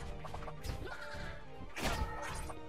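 Smash attacks in Mario+Rabbids Kingdom Battle (Donkey Kong Adventure): two heavy crashing impacts, the second louder, over a busy game soundscape with no speech.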